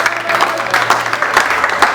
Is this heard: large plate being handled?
no